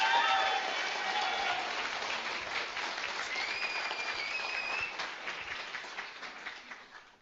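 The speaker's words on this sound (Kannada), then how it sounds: "ಒಂದ್ಸಲ ಆ ಟಾಪಿಕ್ಗೋಸ್ಕರ ಜೋರಾದ ಚಪ್ಪಾಳೆ." A seminar audience at a training session on events and self-education bursts into loud, dense applause that holds steady, then gradually thins and fades toward the end, with a faint murmur beneath.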